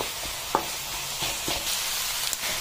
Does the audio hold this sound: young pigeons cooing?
no